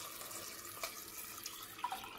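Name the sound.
water poured into a pot of chickpeas for hummus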